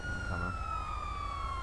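A police car siren in GTA 5 wails in a short burst, its tone gliding steadily downward, heard at moderate distance over a low engine rumble.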